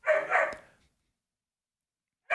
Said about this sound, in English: That might be the first time we have officially gotten dog barks on the podcast.